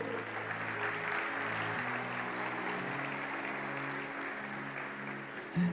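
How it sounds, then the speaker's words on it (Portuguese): A church congregation applauding, a dense sustained wash of clapping lasting several seconds with a faint tonal musical bed beneath it, evenly loud throughout. "Você pode aplaudir esse Deus maravilhoso?"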